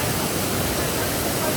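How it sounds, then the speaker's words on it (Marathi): A forest waterfall makes a loud, steady, broadband roar that fills the whole moment without a break, up close. "वॉटरफॉल तर खूप सुंदर आहे असा जंगलाच्या आतमध्ये"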